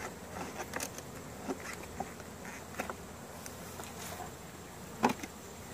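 Honey bees buzz steadily around an opened beehive, a soft continuous drone with occasional louder passes of individual bees close by.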